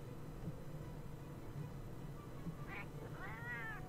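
A cat character in the online role-playing game Final Fantasy XIV meows twice near the end, rising and wavering calls over a faint steady background hum.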